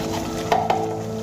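Spices being sautéed and stirred in a pan for a prawn curry with mustard paste, giving a soft steady sizzle. Two short scraping strokes of a spoon against the pan come through clearly.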